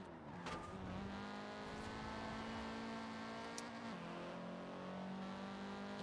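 A car engine in Forza Horizon 4 holds a buzzy, steady revving tone with a pitch dip near the middle, fairly quiet and alone, with no talk.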